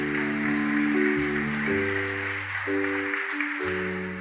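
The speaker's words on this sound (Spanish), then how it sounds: "Aplauda al Señor, hermano, no se quede con ganas" Congregation clapping for the Lord during a church service, a steady wash of applause heard under sustained organ or keyboard chords that shift pitch every second or so.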